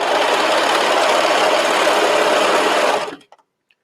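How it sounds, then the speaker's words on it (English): A serger stitching a knit top: a fast, steady mechanical whir running close and loud for about three seconds, then stopping abruptly, with a faint click after. "and then run it to the serger."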